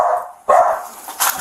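A dog barks and yips close by in a tense home setting during a police bodycam encounter, with a couple of sharp barks spaced apart and no voices talking.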